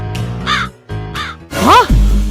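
A crow caws in a forest setting, three harsh calls in a row, the last louder and closer, standing out alone against a quiet background.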